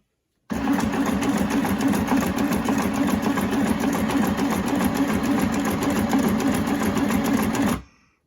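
Close, steady whirring chatter of a sewing machine stitching continuously for about seven seconds, then stopping abruptly, with no talking over it.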